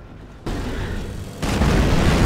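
Explosions boom from a P-47 bombing run in a video game, two heavy blasts thudding in one after another, the second louder and rumbling on after the hit.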